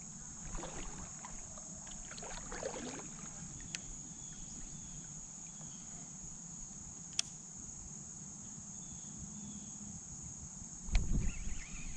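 A kayak gliding on a creek during smallmouth bass fishing, faint paddle and water sounds under a constant high cricket chorus, with a few light knocks and a louder splashy stroke near the end.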